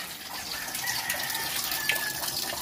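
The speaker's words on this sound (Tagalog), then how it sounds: "Ito yung tubig na spring galing to sa taas sa bulubundukin" Mountain spring water runs in a steady, close rushing stream, a continuous broadband wash with no pauses and no voices.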